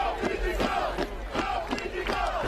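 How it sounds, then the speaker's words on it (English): A rugby sevens crowd at an Australia versus Fiji match in Atlanta, 2016, chanting loudly in unison: a rhythmic, repeated shouted call rising and falling in steady pulses over a dense roar of stadium noise. "The skills on display as the crowd shouts, "Go Fiji, go!""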